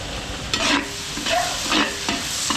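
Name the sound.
garlic and onion frying in a pan for pancit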